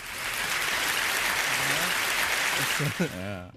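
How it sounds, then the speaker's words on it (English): Dense clapping of a crowd applauding, steady and loud, fading out as a voice briefly cuts in at the end. "I want to pick which fake applause I have?"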